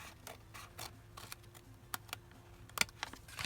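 A paper trifold envelope is cut into with a series of crisp, irregular snipping clicks in a quiet room.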